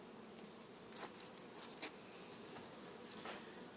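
Honey bees buzzing steadily around an open hive in September, a continuous dense hum with a few individual bees passing close by and briefly louder.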